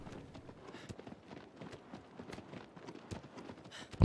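Hoofbeats of a horse galloping in Shadow of the Colossus, a fast irregular clip-clop run in the game, steady and moderately close with no talking over it.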